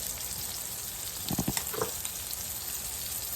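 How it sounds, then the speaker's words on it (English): Okra and squash fry in a pan with a steady, close crackling sizzle. A few clicks of utensils break in near the middle, and no one speaks. "you want to fry this until it's tender"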